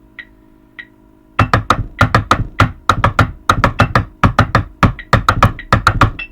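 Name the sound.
high school drumline rhythm played on drums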